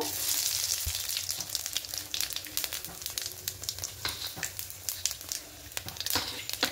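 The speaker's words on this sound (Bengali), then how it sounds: "এবার এই তেলের মধ্যে 5 ফোড়ন শুকনো লঙ্কা ফোড়নে দেব।" Panch phoron and dried red chilli sizzle and crackle in hot oil, a busy frying hiss broken by sharp pops and spatters that keep going without any talk.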